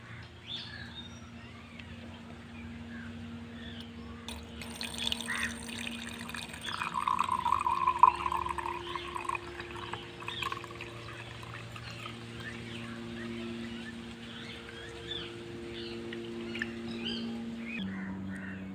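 Water pours steadily into a container for a betta fish for a long stretch, swelling in the middle, with faint birdsong in the background.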